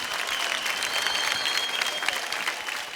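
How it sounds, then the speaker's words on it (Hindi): A studio audience on Dance India Dance Season 2 bursts into dense, steady applause for dancers Amrita and Vini, loud and continuous throughout. "जोरदार ताली हो जाए अमृता और विनी के लिए।"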